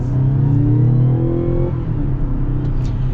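Mazda CX-90 plug-in hybrid SUV pulling hard through traffic, its engine note rising in steady harmonic sweeps, loud and close, then easing off with a lower settled hum.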